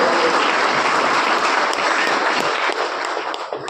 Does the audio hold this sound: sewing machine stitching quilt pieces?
no